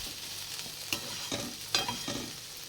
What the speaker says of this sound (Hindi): अभी थोड़ा सा इसे खुले में ही भुनेंगे, फिर ढकते हुए इस भिंडी को भी हम पका लेंगे